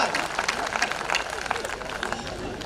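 A live comedy-poetry audience bursts into sustained, dense clapping and crowd noise, loud and close, with a voice briefly audible underneath.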